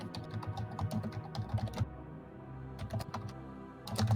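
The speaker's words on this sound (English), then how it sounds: "It sounded like you were angrily typing." Rapid, uneven clatter of computer keyboard typing picked up over an online call, bursts of keystrokes with a short pause in the middle, fairly close.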